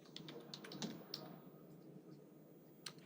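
Soft clicks of fingers typing on a computer keyboard during a spreadsheet exercise, a few irregular taps spread across a faint, quiet background.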